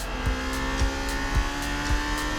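A Lamborghini Temerario engine drones steadily at high revs above 8,000 RPM, a loud sustained tone with a faint rhythmic pulse and no talking.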